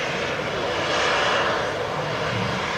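An airliner on approach at Manchester Airport gives a loud, steady broadband engine roar that holds evenly for the whole stretch, with no talk.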